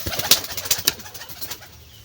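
Several soft pigeon coos in a loose, uneven rhythm, fairly close, with faint rustling and no talking.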